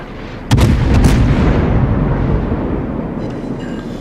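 Naval guns firing in World of Warships, a heavy booming salvo of a few close shots in quick succession followed by a long rumbling decay, no talk.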